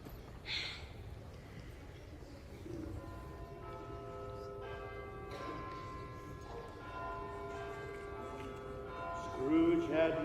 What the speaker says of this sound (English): the bell was again upon the stroke of one